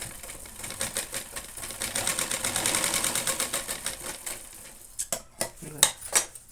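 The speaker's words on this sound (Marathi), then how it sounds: "हे बघा अशा पद्धतीने आपल्याला ही बॅग शिवून घ्यायची आहे।" A sewing machine stitching a cloth bag, running in a steady rapid rhythm for several seconds, then a few separate short bursts near the end, close up.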